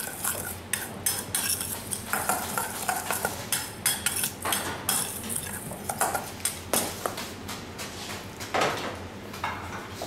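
Salmon marinade ingredients are crushed and stirred in a bowl with a utensil, giving rapid, irregular scraping and clinking strokes, close and busy, continuing for several seconds with only slight pauses.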